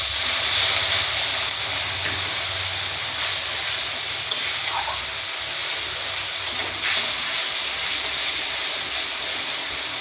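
Water poured into sizzling masala for a Bengali doi katla (yogurt fish curry) sends up a steady hiss of steam and spray from the pan, continuous throughout with a few brief louder bursts and no talking.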